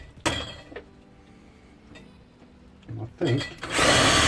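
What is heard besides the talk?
power drill drilling through a control panel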